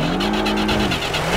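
A truck engine in the off-road driving game Spintires revs hard and steadily, a continuous close drone with a rough grinding edge and no voices over it.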